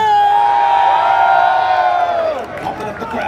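A large crowd at the E3 2018 gaming expo cheers and whoops loudly for about two seconds, a sustained high roar of voices that then fades into a looser, lower babble.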